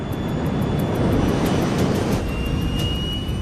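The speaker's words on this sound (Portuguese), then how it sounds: "o MD-82 começa a acelerar na pista" MD-82 airliner accelerating down the runway on its takeoff roll, a loud steady engine roar building slightly with a thin high whine throughout, no voices.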